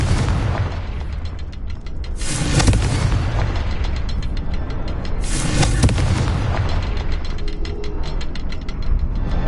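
Confringo blasting spell in a Harry Potter video game, sounding as two loud booming bursts about three seconds apart over a constant dense rumbling, mechanical game soundscape.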